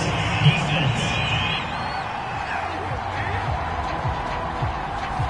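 Stadium crowd at an American football game reacting angrily to a penalty flag on third down, a loud surge of shouting and whistling that settles into a sustained murmur of booing.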